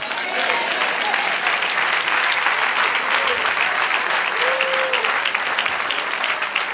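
A congregation applauds during a sermon in a church, with loud continuous clapping that stays even throughout, along with a few faint voices and whoops.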